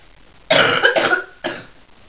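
A single harsh cough split into two or three rough bursts, close and fairly loud, with no talking.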